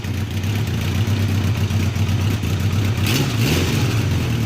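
A car engine holds a steady, loud mid-range drone with low harmonic hum throughout, its pitch shifting slightly near the end as it revs up and down.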